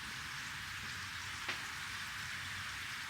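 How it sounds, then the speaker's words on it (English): Rain falling outside on a miserable day, heard from indoors as a steady, even hiss with one brief tick near the middle. There is no talking. "it's literally raining. Like it's so horrible outside."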